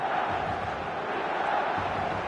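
Stadium crowd at a football match in the eFootball 2026 game, a steady massed roar of supporters with chanting swells, loud and continuous throughout, no individual voices standing out.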